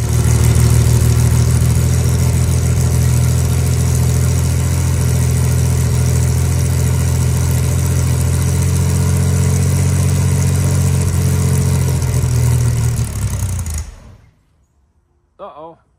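A 1961 Chevrolet Corvair 95 pickup's engine runs loud and steady up close, then abruptly cuts out and stalls, leaving near silence with a brief thump at the end.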